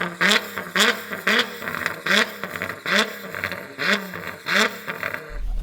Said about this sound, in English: We will show you what it is, a real engine and exhaust.